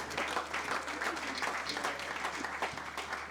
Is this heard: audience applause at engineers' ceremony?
yes